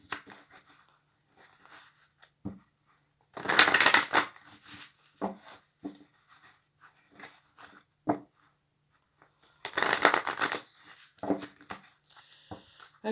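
Oracle cards are shuffled by hand in two short, papery riffling bursts separated by quieter handling rustles and light taps, close and intimate.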